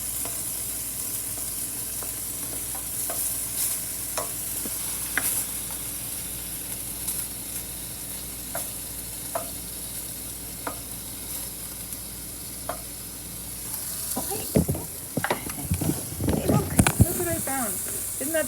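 Beef pieces for beef bourguignon sear in a hot pan with a steady, low sizzle. Scattered clicks come through, and a louder burst of crackling and clatter near the end as the pieces are turned.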